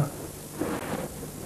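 A thunderstorm with steady rain, a broad continuous hiss of falling water with a low rumble of thunder swelling beneath it, with no voices.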